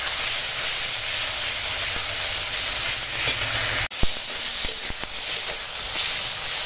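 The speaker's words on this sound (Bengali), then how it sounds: "এখন মশলাটা ভালো করে কষে নেব" Turmeric, chili and cumin powders with salt frying in hot oil in a pan: a steady, loud, close sizzle, interrupted once by a sharp drop and a few stirring knocks, with no talk.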